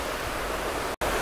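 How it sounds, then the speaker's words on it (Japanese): A swollen river rushing after a typhoon, heard as a broad, constant roar of water close to the recorder, steady and loud, with a brief dropout near the end. "やっぱ台風明けで川がやばい、川が。川がすごいよ。"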